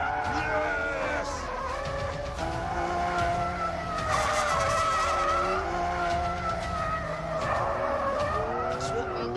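A Lamborghini slides with its tires squealing in long, wavering shrieks over a roaring engine, the skid sustained and close throughout, with a voice shouting over it at moments.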